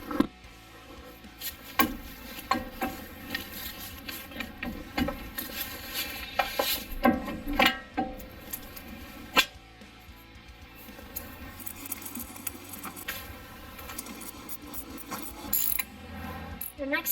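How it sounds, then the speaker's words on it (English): A brake caliper being refitted on a Toyota during a brake and rotor job: irregular metallic clicks, ratcheting and clanks of parts and tools, close by, with no speech. "We're ready to put the caliper on."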